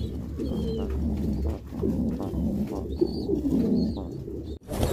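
Pigeons cooing inside a loft, repeated soft throaty coos layered over a steady low ambient hum, fairly close, with faint higher chirps here and there and no talking.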